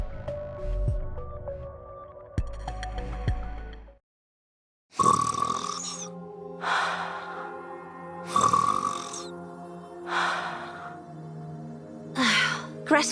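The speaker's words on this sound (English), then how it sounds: "Ave's snoring is goddess level. We can hear it all the way from over here." A character snores loudly in a Nikke event story, with deep rumbling inhales and drawn-out breathy snorts repeating every couple of seconds, preceded by a burst of tonal game sound effects.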